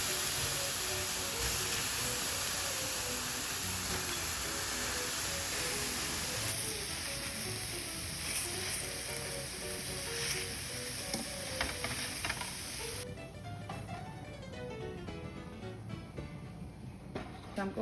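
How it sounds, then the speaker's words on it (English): Halved tomatoes laid face down in a hot pan to char for a Mexican mole, sizzling in a steady, fairly quiet hiss throughout, with occasional scraping and clinking as they are moved. "I'm going to put them face down. And we're going to let them char."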